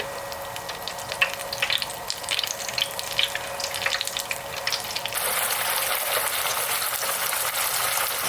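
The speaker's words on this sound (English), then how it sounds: "We'll go flour, egg, breadcrumbs into 350-degree oil until it gets nice and crispy." Breaded mozzarella sticks coated in flour, egg and breadcrumbs frying in 350-degree oil, giving a steady bubbling sizzle with brief crackles that rises to a louder, even hiss partway through.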